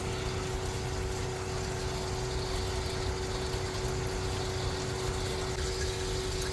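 Air sputtering and hissing through the water line of a new Grand Design Solitude RV shower fed by a garden hose, a steady close rumbling gurgle with a constant hum that keeps the same level throughout.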